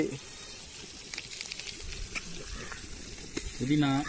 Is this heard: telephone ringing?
no